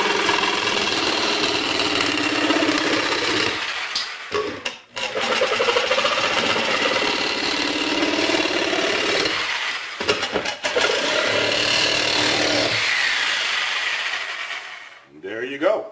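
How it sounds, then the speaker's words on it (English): A Dewalt reciprocating saw buzzes steadily as it cuts, its blade stroking hard and close, with the variable speed trigger feathered to hold the pace; the motor cuts out briefly twice before resuming. "You can see I can feather the trigger so I don't get a lot of vibration as I'm cutting it."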